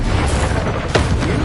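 Bombarda explosion spell in Hogwarts Legacy: a loud, dense blast with a sharp burst near the middle, low rumbling throughout, no talking over it.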